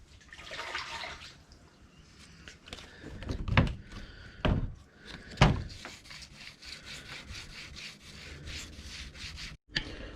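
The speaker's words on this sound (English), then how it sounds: "I've sanded the clear down with 2500." Steady rasping of 2500-grit sandpaper rubbed back and forth over the clear coat of custom Subaru gauge pods, with a few louder scuffs and knocks along the way and no talking.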